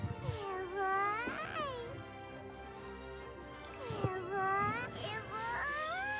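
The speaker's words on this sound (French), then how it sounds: "Ah, il est tellement heureux qu'il va ronronner." Eevee in Pokémon Let's Go makes a series of high, squeaky, rising and falling cries in repeated bursts, near and fairly loud with a low buzzing murmur beneath.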